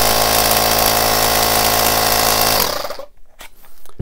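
A Parkside 20V cordless compressor running on a 2 Ah battery gives a loud, close, steady buzzing motor drone for a few seconds, then cuts off abruptly, leaving faint clicks and handling noise.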